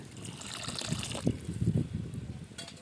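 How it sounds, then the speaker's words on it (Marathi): Hot water pours and splashes into a clay pot of goat mutton curry on an outdoor wood-fired stove for a couple of seconds, close and moderately loud, then trails off. "आणि आता आपल्या घोळ्यात इतके पाणी टाकून घेऊया थोडं"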